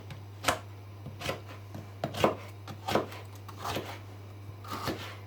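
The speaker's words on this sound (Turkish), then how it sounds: "Koy biberleri. bir keselim de." A knife chops frozen summer peppers on a board, producing about eight crisp, separate cuts at an uneven, unhurried pace over a low steady hum.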